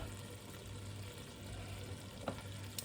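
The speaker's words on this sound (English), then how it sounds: "I'm just going to throw these peppers in here." Peppers tossed into a hot pan fry with a continuous close sizzle and hiss, low and even, with a low hum running underneath and a couple of brief clicks near the end.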